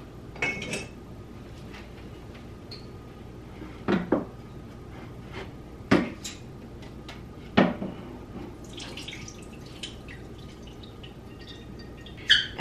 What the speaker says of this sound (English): So let's get that oil poured off.